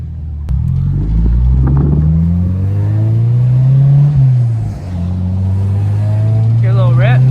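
A 1994 Acura Integra with new upper control arms driving, a loud steady engine drone from inside the car rising and falling with the throttle, with someone talking briefly over it.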